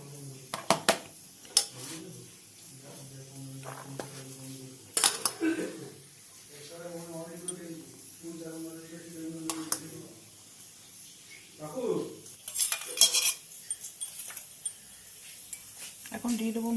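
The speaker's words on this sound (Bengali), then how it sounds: "এখন ভাতটা বেড়ে নিচ্ছি।" Rice being served with a utensil, with sharp intermittent clinks and scrapes of dishes and cutlery, and a person talking between the clatters.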